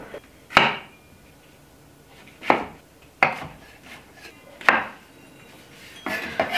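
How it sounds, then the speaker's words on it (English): A knife chops mushrooms into small pieces on a board, with about five sharp, separate knocks spread out at an uneven pace and a quicker cluster at the end, close and fairly loud, with no talking. "I'm just going to cut these up into smallish pieces"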